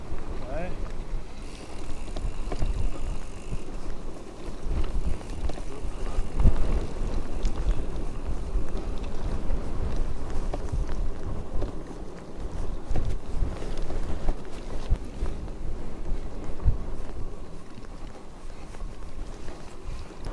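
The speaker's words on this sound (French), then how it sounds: "On est un peu face au vent." Gusty headwind buffets the microphone of a cyclist riding through open countryside, a continuous low rumbling roar that swells and eases throughout.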